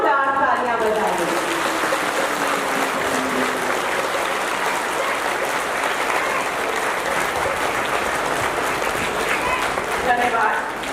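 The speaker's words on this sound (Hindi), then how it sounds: "आज के मुख्य अतिथि के स्वागत में एक बार जोरदार तालियां बजाएं" An audience claps loudly to welcome the chief guest at a Patanjali women's gathering, a dense steady wash of applause lasting throughout, with a voice speaking over the start and the end.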